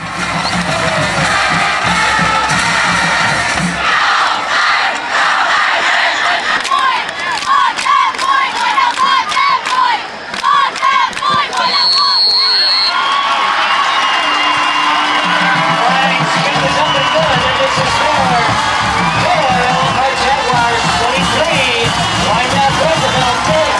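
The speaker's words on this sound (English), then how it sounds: "The crowd goes wild." Large crowd at a Friday night high school football game roars and whoops after a touchdown, a dense, sustained wash of cheering and shouting that swells and stays loud throughout, with a brief dip midway.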